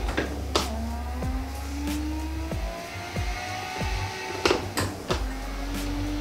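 A car engine in a driving video game revs up and down through gear shifts, rising whines climbing and dropping repeatedly with sharp clicks between them, steady and fairly loud with no talking.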